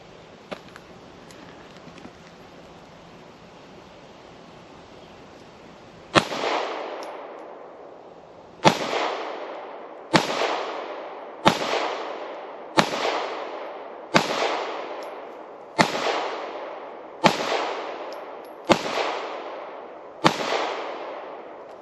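A CZ P10 S pistol fires about ten sharp shots spaced roughly 1.5 seconds apart, each crack loud and close with a short decaying tail, after a few seconds of low background noise.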